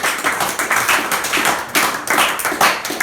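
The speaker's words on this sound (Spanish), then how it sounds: "¿no lo van a aplaudir?" A church congregation claps together in a dense, steady burst that swells and pulses for a few seconds, fairly close and with no voices over it.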